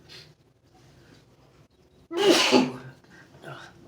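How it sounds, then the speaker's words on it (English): A single loud sneeze bursts out after a few seconds of quiet breathing, followed by a softer exhale. "Oh, I'm gonna sneeze."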